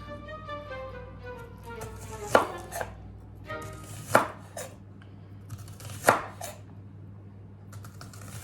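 An onion being chopped on a cutting board, three or four sharp knife thuds spaced about two seconds apart, close and crisp over a quiet background with a faint low hum.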